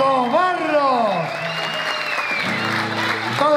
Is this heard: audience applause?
yes